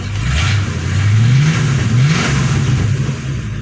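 Tired 1984 1/2 GT350 Mustang engine with a blown head gasket, overheating and low on fuel, running loud and close with a rough lumpy idle, then rising and falling revs in a couple of swells before settling back to a steady rumble.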